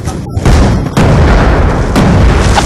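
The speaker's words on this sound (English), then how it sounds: "He got me with a grenade." Grenade explosion in a first-person shooter video game, a loud booming blast that flares up sharply and then rumbles on, with a second heavy burst following about a second later and dense noise sustained throughout.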